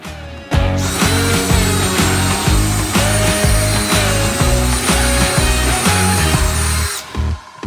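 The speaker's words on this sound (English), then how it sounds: "With this drill, I'm pre-drilling all the spots for the screws, and with this impact, I'm driving them in." A power drill whirs steadily, pre-drilling holes, then an impact driver drives screws while building an outdoor table, repeated short mechanical bursts and thumps, loud and close with no talking.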